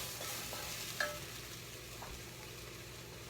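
Salt being stirred into a pot of vegan curried lentils over low heat: a soft, faint simmering hiss with gentle scraping and one small clink of the spoon.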